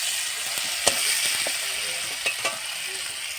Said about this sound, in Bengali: এবারে টমেটো কুচি দিয়ে দিলাম, দিয়ে নাড়তে থাকবো।